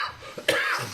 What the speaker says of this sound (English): It's not infectious, it's just a normal cough.